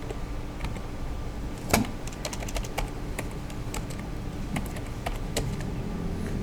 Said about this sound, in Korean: 여기다 직접 타이핑 하시면 돼요